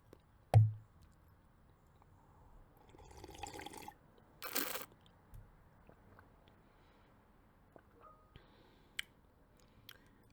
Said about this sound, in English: This is plain filtered water.